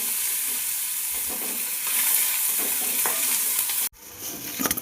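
Chopped onions hit hot oil already fragrant with cardamom, cinnamon and cloves, giving a bright continuous sizzle with stirring scrapes; a brief sudden gap follows before the frying hiss returns with clattering utensil knocks.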